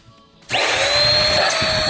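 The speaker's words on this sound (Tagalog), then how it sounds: "Large suction, vacuum cleaner, powerful, and effective." Deerma DX118C vacuum cleaner switching on after a quiet moment, jumping to a loud, steady high-pitched whine with a broadband airy roar that holds to the end.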